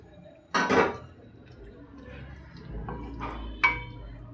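Fried paneer being stirred into masala in a pan for hotel-style paneer masala, with a couple of distinct clinks and scrapes of a utensil against the pan separated by quiet pauses.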